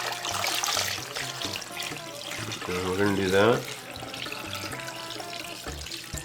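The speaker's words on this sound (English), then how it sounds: "All right, so then add water, cold water." Cold water pours into an Instant Pot for making beef stock, a brief splashing pour under a voice talking over it.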